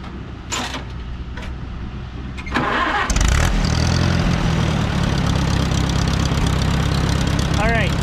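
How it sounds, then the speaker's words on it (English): An Allis Chalmers WD tractor engine is cranked over with a few short bursts, then catches and settles into a loud, steady, close idle that runs to the end. "fire the tractor back up and show you how it works"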